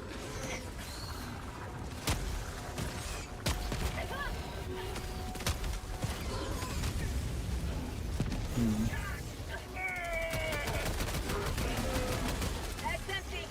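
Heavy automatic gunfire from the shooter game Helldivers 2: dense, rapid bursts and loud impacts run continuously, with voices talking over the battle.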